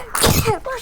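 A single short sneeze bursts out close by at a tabletop role-playing game session, quick and sharp, followed by a brief voiced tail.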